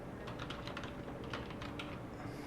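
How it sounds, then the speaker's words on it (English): Steady keystrokes on a computer keyboard while a message is typed into an email text editor, a quiet, even run of soft clicks with no talking. "so you can type in your message here"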